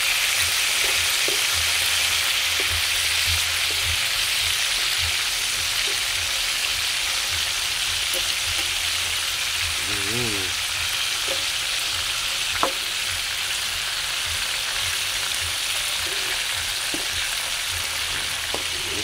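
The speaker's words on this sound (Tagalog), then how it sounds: "Bahagyan na po natin na preto ang ating isda" Carp pieces frying in a pan, a constant close hiss of hot oil with light pops and occasional utensil clinks from stirring, no voices over it.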